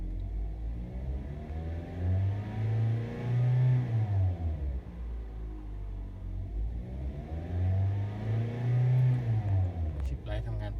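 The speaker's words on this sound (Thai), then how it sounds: "ลองขยับรอบขึ้นนิดหนึ่ง สักสี่พันรอบนะครับ" A car engine revs twice toward about 4000 rpm, each rise swelling in pitch and loudness and then falling back to idle, heard up close alongside speech.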